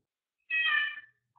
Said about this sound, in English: You can hear the cats in the background.